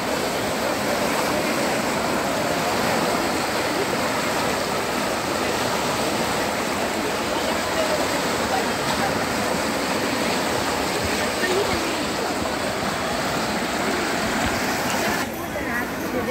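Ganges river water rushing steadily at Har Ki Pauri ghat in Haridwar, where the water is low and sandy; a broad, continuous roar fills the whole stretch at even loudness, with faint voices beneath.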